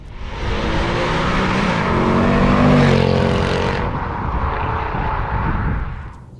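Mercedes C63 AMG coupe (W204) with a 6.2-litre V8 fitted with Milltek secondary decats, roaring loudly and continuously as it accelerates past, deep thunderous exhaust swelling to a peak mid-clip then holding strong before easing.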